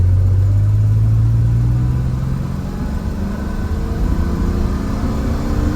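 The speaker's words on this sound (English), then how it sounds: "I'll do an acceleration here as well." A 1982 DeLorean pulling hard from a standstill toward sixty, its engine note rising steadily through the gears with a loud, continuous rumble and no talk over it.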